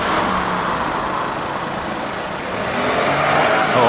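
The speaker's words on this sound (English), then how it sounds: "Here we've got a Seat Arosa." A Seat Arosa drives past on a road, its engine and tyre noise a steady, fairly loud rush that swells slightly toward the end.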